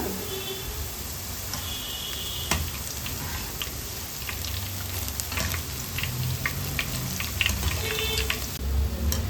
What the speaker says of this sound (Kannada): ಕ್ರಿಸ್ಪಿಯಾಗಿ ಫ್ರೈ ಮಾಡ್ಕೋಬೇಕು ಬಬಲ್ಸ್ ಎಲ್ಲ ಕಡಿಮೆ ಆಗಬೇಕು